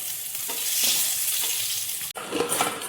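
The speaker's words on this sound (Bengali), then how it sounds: "বেগুনগুলো ভাজা হয়ে গেল" Eggplant slices fry in a pan with a strong, close, continuous sizzle, a brief sharp break near the end, then sizzling resumes.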